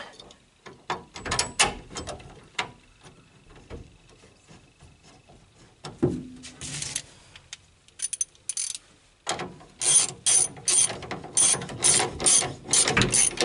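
A ratchet wrench tightens the two bolts holding the half-shells of a bicycle bottom bracket, with bursts of rapid clicking, a pause, then louder runs of ratcheting close by.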